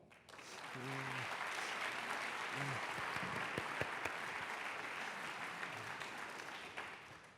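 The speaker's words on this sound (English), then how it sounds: "I'd like to welcome on stage to your rapturous applause, Mr. Stephen Allan, the Global CEO of MediaCom." Conference audience at a media festival applauds as a chief executive walks on stage, a broad wash of steady clapping from a large crowd, somewhat distant, with a few murmured voices early on.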